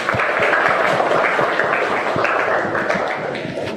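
A classroom of students gives a short round of applause, a dense patter of clapping heard fairly close and holding steady before starting to fade.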